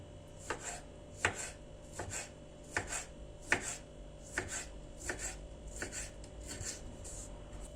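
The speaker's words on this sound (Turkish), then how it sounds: "Böreğin sulanmaması için içini alıp domatesleri de doğruyorum." A knife chops tomatoes steadily on a cutting board, about a dozen crisp, evenly spaced strikes, close and fairly quiet, with no talking.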